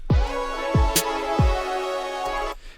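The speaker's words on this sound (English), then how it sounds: "this is a very common kick pattern that gets used" Booming kick drums thump in a common trap pattern, uneven and bouncing, under a held synth pad, joined by a single crisp snare hit midway; no one speaks.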